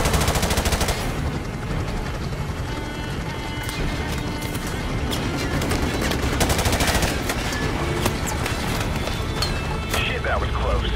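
Heavy gunfire in Call of Duty 4 Remastered, dense machine-gun bursts and rifle shots rattling continuously and loudly through the whole stretch, with voices talking over the combat.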